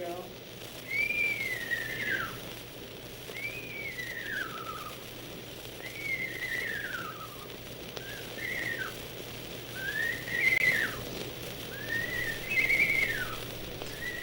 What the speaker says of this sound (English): You're listening to some bird calls from Earl Henry that recorded in 1945